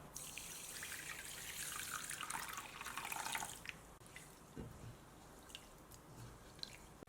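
Half a bowl of millet is washed by hand in water in a large basin, with sloshing and splashing for a few seconds, then quieter drips and small swishes; fairly faint and close, no talking.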